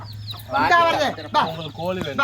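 A chicken clucks in a few short bursts, fairly close, over a steady low hum.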